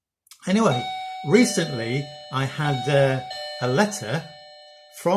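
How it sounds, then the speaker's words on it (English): A doorbell chimes in the background as someone talks, its sustained tones faint and ringing on under his speech from start to finish. "Sorry about that doorbell."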